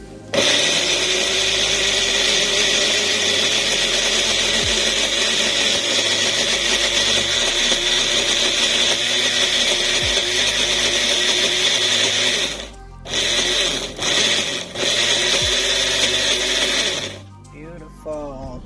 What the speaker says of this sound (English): I just use my bullet instead of my normal blender or boat to puree this here